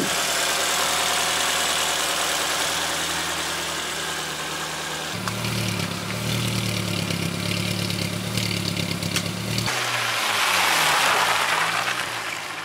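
A VAZ 2102 car fitted with a Nissan engine runs steadily and close by in winter, its even engine drone shifting pitch a couple of times, with no talking.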